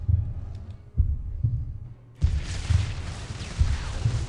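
Heartbeat of Angron, a Chaos daemon in the Dawn of War Ultimate Apocalypse mod, thumps out as deep low pulses in pairs, a close steady throb that continues under a burst of louder ambient game noise.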